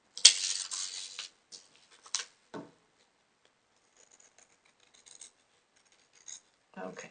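Scissors trimming a freezer paper template, a few short close snipping and rustling strokes in quick bursts with quiet gaps between, ending in another brief cut.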